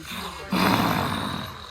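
A person imitates a lion's roar with a single short, throaty growling roar after a brief quiet lead-in, close to the microphone.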